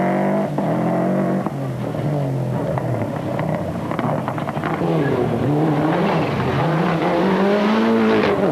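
A flat-six race car engine howls past on a wet track, loud and close, with its pitch rising and falling through shifts and a steady spray of road noise underneath.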